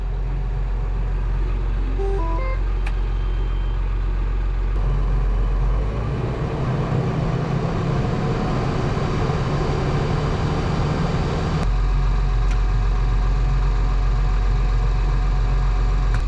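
A vehicle engine idling steadily during a power steering hydraulic pump flow test, a loud continuous low rumble with brief shifts in tone partway through and no voices.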